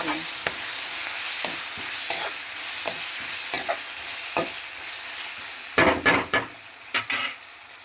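Curry made with gongura leaves being stirred in a pan with fresh coriander mixed in, a steady faint sizzle under scattered scraping strokes of a spoon, with a cluster of louder scrapes near the end.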